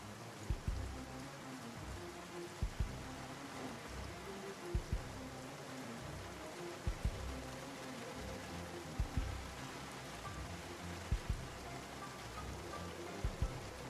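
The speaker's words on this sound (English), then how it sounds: "in this game here, last like 3-4 days of game time, it's just been raining like it's going out of style" Steady rain falls in the Project Zomboid video game, a continuous hiss with soft irregular low thumps recurring every couple of seconds, all fairly quiet and without speech.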